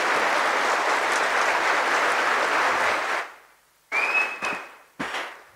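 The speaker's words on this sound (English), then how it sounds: "A huge round of applause, ladies and gentlemen." Loud, dense applause from a crowd at a spirituality festival for about three seconds, fading out, followed by short bursts of clapping and a brief whistle-like tone.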